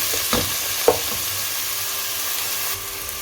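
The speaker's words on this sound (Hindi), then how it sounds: "ऑयल भी गर्म हो चुका है। मैंने 2 मीडियम साइज के अनियन को चॉप कर लिए। अच्छे से मिक्स कर लेंगे।" Two medium-sized chopped onions fry in hot oil while being stirred, giving a steady, fairly quiet sizzle with a couple of sharp knocks from the stirring spoon.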